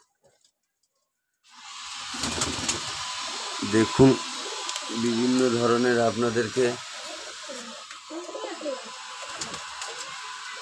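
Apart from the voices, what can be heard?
pigeons cooing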